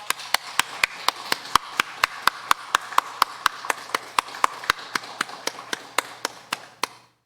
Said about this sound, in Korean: 우리도 힘찬 박수로 영광 돌리겠습니다